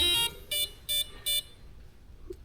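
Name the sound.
ESC startup beeps when powered on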